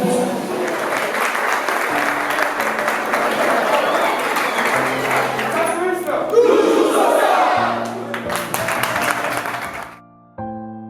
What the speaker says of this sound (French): acclamation l'entrée à la salle du président de l'association des stations.